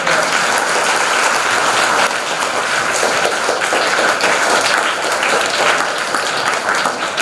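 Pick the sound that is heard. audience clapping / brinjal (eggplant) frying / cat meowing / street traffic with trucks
audience clapping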